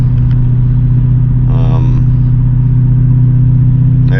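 Low, steady engine rumble heard from inside a BMW E39 540i with a 6-speed manual and 3.15 rear differential cruising on the road, constant and loud, with someone talking over it.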